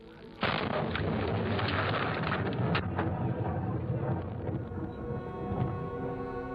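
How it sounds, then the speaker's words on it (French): A thunderstorm sets in abruptly with a loud, sustained rumble of thunder and heavy, dense rain, staying powerful and broad throughout with several sharper cracks. "Thunder, lightning bolts, forces of nature experienced by all of us."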